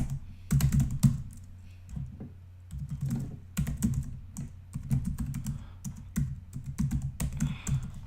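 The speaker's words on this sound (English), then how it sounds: "So I'm just going to type in my email." Close-up clatter of someone typing an email on a computer keyboard, with dense bursts of keystrokes separated by short pauses and no talking.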